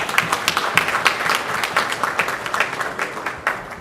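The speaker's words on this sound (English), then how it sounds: "a big round of applause for our wonderful audience" Sustained audience applause fills a panel event at an HR round table in Mumbai, with dense, steady clapping from many hands and no break throughout.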